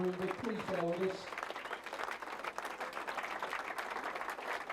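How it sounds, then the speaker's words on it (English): Dinner-hall crowd at a Charlton Athletic ex-players reunion applauds a former player's introduction, a dense, steady wash of clapping that follows a brief moment of talk at the start and carries on loudly throughout. "Give him a round of applause."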